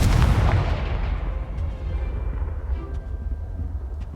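A Confringo fire spell in Hogwarts Legacy bursts with a loud, booming explosion at the start, then a rumbling low roar slowly decays over several seconds.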